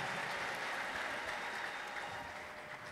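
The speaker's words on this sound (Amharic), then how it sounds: "አጨብጭቡ በዚህ እጃችሁ" A church congregation claps its hands together during a prophet's sermon, a faint, distant, continuous patter of applause without pause.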